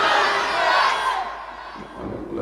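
A crowd at a religious gathering roars the takbir chant, Nara-e-Takbir, a loud massed shout of many voices that swells and then fades within a couple of seconds.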